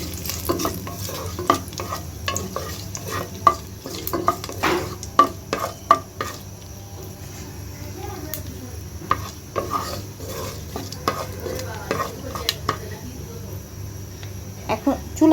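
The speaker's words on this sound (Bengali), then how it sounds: "এখন ভালো করে নাড়াচাড়া করে নেব।" Vegetables and tempering spices fry in a pan for a winter mixed vegetable curry, with a steady sizzle broken by frequent loud clatters and scrapes of a spatula stirring against the pan.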